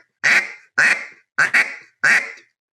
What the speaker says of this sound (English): that's a live duck